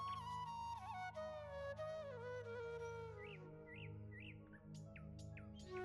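A cartoon bird chirps in a run of bright, short tweets that rise and fall, with several separate chirps in the second half over a soft musical background.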